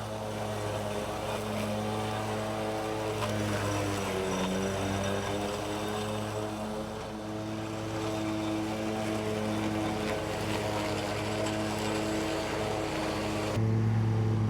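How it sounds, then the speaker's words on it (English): A Toro Z-Master 4000 zero turn lawn mower mulches tall wet grass, corn stalks and big weeds, its engine droning loudly and steadily throughout with a slight dip in pitch midway. "But that mower, I think, can go like 12 miles an hour, 15 miles an hour, something like that."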